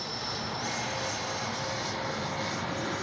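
A radio-controlled Freewing MiG-29 jet makes a low pass before landing, its ducted-fan engine a steady, faint, hissing whine with a slight swell as it goes by.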